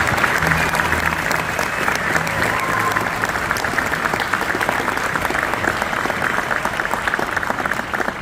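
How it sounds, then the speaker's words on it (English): An audience at a school district orchestra festival applauds steadily, a dense wash of clapping that holds even throughout with a faint crowd murmur beneath. "please give them a really heartfelt round of applause."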